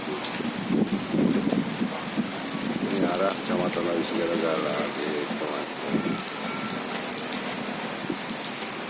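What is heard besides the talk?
strong wind and heavy rain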